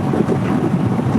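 Gusty wind outdoors at 25-mile-an-hour gusts on a pre-dawn morning, buffeting the microphone as a steady, loud, low rumble throughout.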